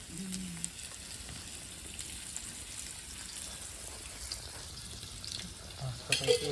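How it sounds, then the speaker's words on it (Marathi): Fish frying in a pan on a wood-fired clay stove at home, a steady soft sizzle running throughout with a few louder crackles near the end, with no talking. "मम्मी इकडे मच्छी तळते"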